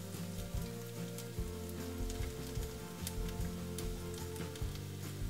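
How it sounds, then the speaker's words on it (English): Mustard and cumin seeds splutter and crackle in hot oil, a dense, steady sizzle with scattered sharp pops running throughout at close range, with no voices. "Once mustard and cumin seeds start spluttering, we would add the garlic and the coconut."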